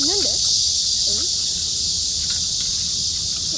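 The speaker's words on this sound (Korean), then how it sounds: "여기도 매미 한 마리 있잖아요." A cicada buzzes in a steady, high, shrill drone across the clip, with a couple of brief voice-like sounds near the start.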